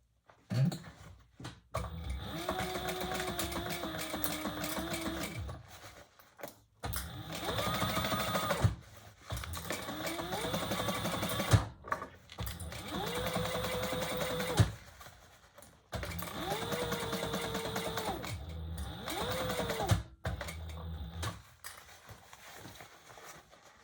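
A sewing machine stitches a Compass tote bag in four or five sustained runs of steady whirring, each a few seconds long, separated by brief pauses, close and fairly loud.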